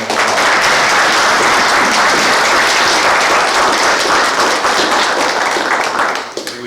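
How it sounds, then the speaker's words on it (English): Sustained audience applause fills an emergency services employee recognition night in Nash County, a dense, steady wash of many hands clapping at full volume before tapering slightly at the end. "Let's give all these individuals a round of applause."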